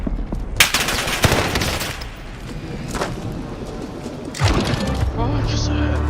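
Rapid video game gunfire crackles in bursts of automatic fire and single booming shots, loud and close, mixed with scattered game effects.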